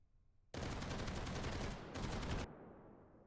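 Rapid automatic carbine fire in a video game: two loud, close bursts of fast shots, the first about a second and a half long and the second shorter, followed by a fading echo.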